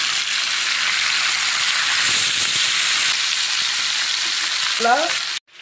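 Masala-coated fish fries in a pan with a loud, dense, continuous sizzle and hiss heard up close. A brief clink comes near the end before the sound cuts off.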